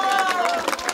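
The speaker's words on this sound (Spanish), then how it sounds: "el aplauso para la familia" Wedding guests applaud for the family at a civil marriage ceremony in Chacayán, Pasco, Peru, a brief dense burst of clapping mixed with crowd noise and faint voices.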